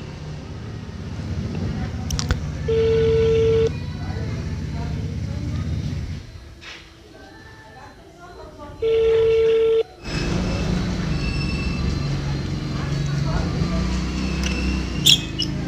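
An outgoing telephone call rings twice: two steady ringback tones, each about a second long, sound over continuous background noise.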